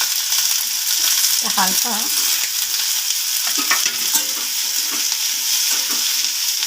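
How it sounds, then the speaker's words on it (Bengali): Onion, garlic and ginger fry in a pan with a steady hiss of sizzling oil and occasional stirring scrapes, while a voice speaks briefly. "আর অল্প একটু আদা নিয়ে এবার ফ্রাই করব"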